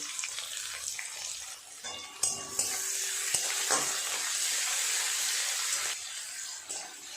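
Chopped onion frying in a pan for a soybean curry, a loud continuous hiss of sizzling oil with a few sharp metallic clanks from a spoon against the pan, heard close up without talk.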